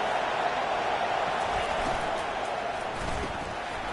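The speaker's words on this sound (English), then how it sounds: "This crowd bringing the energy and noise early." A football stadium crowd roars continuously in a broad, steady wash of noise that stays loud and even throughout, with only faint hints of individual voices inside the din.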